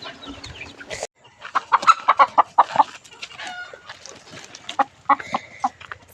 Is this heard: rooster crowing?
yes